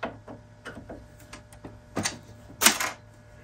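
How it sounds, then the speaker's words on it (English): Loose plastic pieces rattle and clack inside an iMac G3 Dalmatian computer case as it is handled, a handful of irregular close clicks and knocks with a louder clatter near the end. "And you can hear the plastic rattling in there."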